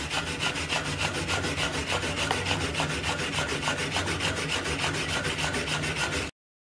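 Steady, continuous abrasive rubbing and rasping as a self-shielded flux-cored weld on quarter-inch steel plate is cleaned up, loud and unbroken for about six seconds with no talk, then cutting off abruptly.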